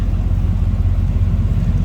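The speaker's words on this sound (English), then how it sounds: "just nice deep throaty exhaust note" Steady deep, throaty exhaust rumble from an idling 1980 Chevrolet K10 Silverado V8 pickup, loud and close, with no talking.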